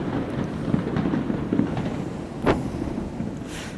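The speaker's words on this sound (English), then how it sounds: "This is the city of fireworks. Every time I'm back here, they have fireworks." Fireworks go off over a city, heard as distant dull booms and crackles with one sharper burst partway through, set against steady outdoor background noise.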